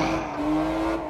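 A rear-wheel-drive BMW race car in Project Cars drones close and loud, its engine holding a steady sustained note through a short stretch without speech.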